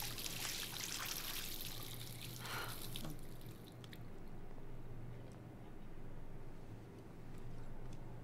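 Water pours and trickles in the video game Life is Strange, a bright splashing stream for about three seconds that stops, leaving faint room tone.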